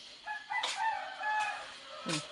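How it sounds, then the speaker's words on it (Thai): A rooster crows at a distance in a rural village setting, a faint drawn-out call heard alone with quiet background. "เสียงไก่ขัน"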